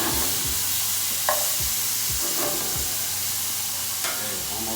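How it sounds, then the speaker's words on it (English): Aromatics warm in a pan with a steady sizzling hiss, joined by occasional stirring scrapes and a couple of sharp utensil clicks, close up and moderately loud. "get that aromatics going inside this pan. We're just going to warm these through"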